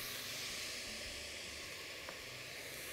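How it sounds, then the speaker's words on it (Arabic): Chopped onions sizzle steadily in a heated pot as bulgur with tomato gets started, a broad continuous hiss held at an even level throughout with a faint click partway through and no talking. "سخنا الحلة بتاعتنا، هننزل بسم الله البصل"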